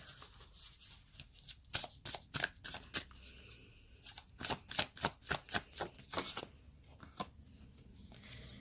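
Tarot cards being shuffled and scattering give a string of quick, crisp riffling bursts close by, irregular at first, then tighter and rhythmic in the middle before thinning out, with no talking.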